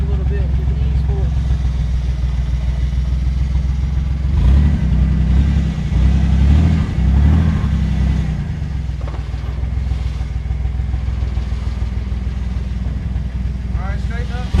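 A Ford Mustang SN-95 car engine idles and revs gently while being eased onto a trailer, a steady low rumble with a few throttle swells as someone talks and guides the driver.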